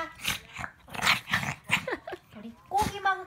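Several small Shih Tzu dogs playing together indoors, giving short close growls, whines and yips over and over, mixed with a voice talking to them.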